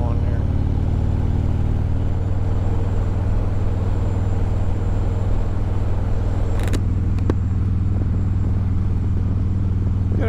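An Indian Scout motorcycle on Highway 3 drones steadily as it picks up speed through the gears, a low continuous engine hum with wind noise and a couple of brief sharp clicks partway through.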